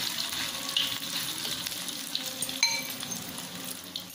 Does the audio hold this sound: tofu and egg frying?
yes